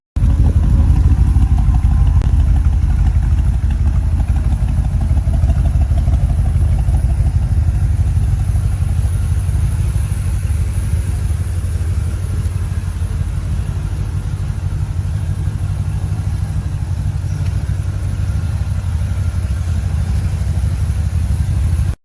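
A Chevrolet Monte Carlo engine runs hard on the throttle, giving a loud, steady, low rumbling drone that holds without a break and with no talking over it.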